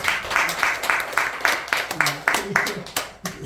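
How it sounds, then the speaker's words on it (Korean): Audience members clap along at a Buddhist dharma talk in a hall, a loose patter of a few hands rather than full applause, fairly close, with some voice sounds over it. "박수 한번 쳐보세요"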